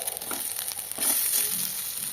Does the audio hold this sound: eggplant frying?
yes